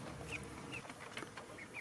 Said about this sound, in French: 2 jeunes coqs Bielefelder